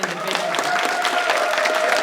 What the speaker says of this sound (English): if we can applaud 5 times as long as we did for any